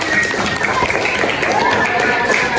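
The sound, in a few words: class applause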